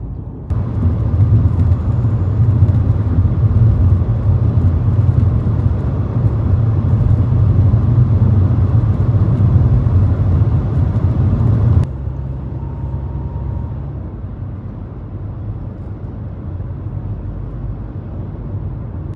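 A car drives toward the city early in the morning with a steady low engine and road rumble from inside the cabin, which drops quieter partway through.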